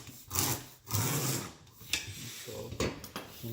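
A blade scores wood for a custom sign box in several close, uneven rasping strokes with brief pauses, loud and scratchy with no talking.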